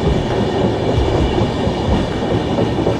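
The 22317 Humsafar Express runs through Gomo station, heard from on board as a steady loud rumble of wheels and carriage with faint rhythmic clatter, no voices.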